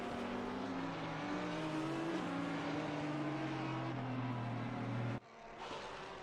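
An Audi race car at a Donington rookie league round, its engine droning loud and steady with slowly shifting pitch as it runs along the track, then cutting away abruptly to a quieter background near the end.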